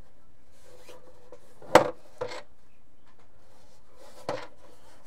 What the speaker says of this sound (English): I didn't glue it down or anything, so it's rattling on the inside.